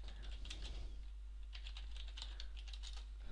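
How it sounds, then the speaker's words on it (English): Typing on a computer keyboard, a quick run of light clicky keystrokes in short bursts, close but fairly quiet over a low background hum. "You can just type a little bit in here"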